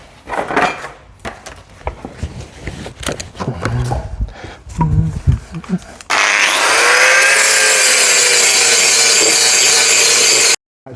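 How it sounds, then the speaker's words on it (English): Grinding off welds on a BMW E36 body: irregular handling knocks and scrapes come first, then a loud steady grinder whine runs for several seconds before cutting off. "I need to grind off some of them welds."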